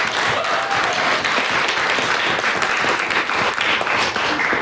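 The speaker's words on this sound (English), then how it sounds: "So round of applause again to you all." A debate audience gives loud, dense applause that is steady from start to finish, with many hands blending into a continuous roar and no talk over it.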